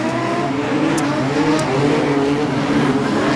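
Modified sedans race at Kingaroy Speedway, with loud engines roaring continuously as the cars run under full racing conditions, several engines layered together at steady high revs.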